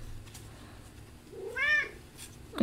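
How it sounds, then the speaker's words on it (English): A single close cat meow rises and falls near the middle, over quiet room hum with a faint noise at the end. "I have a kitty on my lap."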